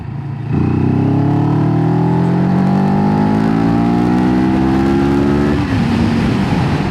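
Heard from on board, a CFMoto 700CLX Sport motorcycle pulls hard in third gear in sport mode, its engine note rising steadily for several seconds before easing off, loud and close with wind noise underneath.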